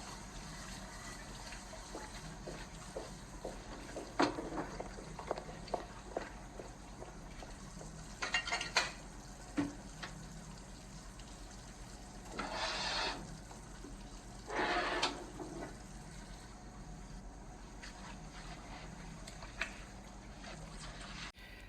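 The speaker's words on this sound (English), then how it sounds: "as Jane washed some dishes" Dishes being washed in an office pantry, with a faint hiss of running water and scattered clinks and knocks of crockery, plus a few louder splashing gushes.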